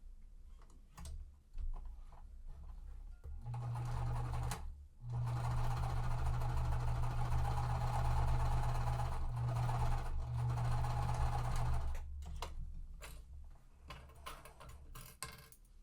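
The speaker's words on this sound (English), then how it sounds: "We're going to sew the opposite sides." A sewing machine stitches quilt fabric in short bursts, its rapid mechanical hum running steadily for several seconds between brief pauses and fabric handling sounds, close and moderately loud.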